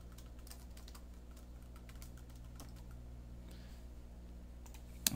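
Steady typing on a computer keyboard while entering a subtitle on a PowerPoint slide, a quiet continuous patter of key taps ending in one sharper click, with no one speaking.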